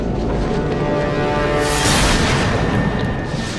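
Austrian Skoda artillery cannons firing on Belgrade at the outbreak of World War I, a dense continuous roar of boom and rumble that swells loudest midway and stays heavy throughout.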